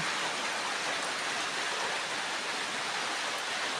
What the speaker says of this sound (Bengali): হাঁসেরাও অত্যন্ত খুশি, সবাই আনন্দিত, কারণ বৃষ্টি হইতেছে তো, বহুদিন পরের বৃষ্টি।